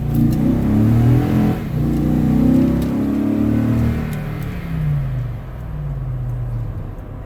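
A Toyota Tundra pickup with an upgraded TRD exhaust accelerates hard, its deep exhaust roar rising and falling continuously as the engine revs, loud and close.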